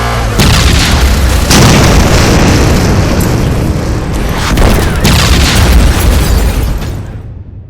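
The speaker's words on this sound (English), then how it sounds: "Its hand recoils to form a blast weapon and fires." A giant robot's blast weapon fires in an audio drama, producing a loud, sustained roaring boom with rumbling bursts and crackling surges that swell and then fade out at the end.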